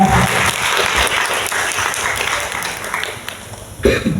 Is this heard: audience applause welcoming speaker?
yes